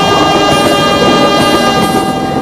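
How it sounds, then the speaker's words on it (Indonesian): A train rolling past a railway crossing, loud and close, with a sustained horn-like tone over steady rumbling wheels and rail noise. "Kesabaran teruji saat menunggu kereta api melintas."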